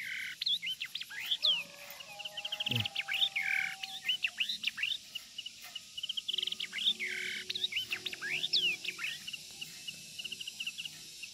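A yellow-eyed hwamei songbird sings a run of varied whistled phrases and quick trills. The song is moderately faint against a quiet background, with brief pauses between bursts.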